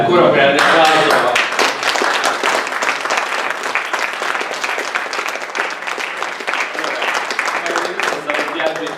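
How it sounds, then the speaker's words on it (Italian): Seminar audience in Rome applauding steadily with dense, loud clapping that fills the whole stretch, voices and cheering mixed into the crowd noise. "Ancora un grande applauso."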